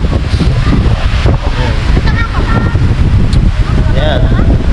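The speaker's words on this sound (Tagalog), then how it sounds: "lakas ng alon. Lakas ng hangin" Strong wind roars across the microphone and waves crash without pause at Carino campsite in Dingalan, a loud, constant rush, with faint voices half-buried beneath it.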